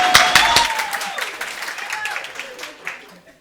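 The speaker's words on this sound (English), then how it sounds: "Please clap for me." Conference attendees at a closing plenary session clap briefly after a one-minute speech, the applause strongest at the start and fading out, with voices audible under it.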